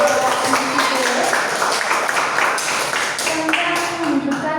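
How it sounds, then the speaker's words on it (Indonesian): A seminar audience in a school hall claps steadily for a presenter, a dense, even wash of applause lasting throughout with some voices mixed in. "Mari kita beri tepuk tangan untuk Bapak Dusikit"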